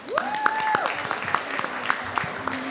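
Scattered clapping from a small crowd at a media awards ceremony, sharp irregular claps mixed with whoops and cheering voices.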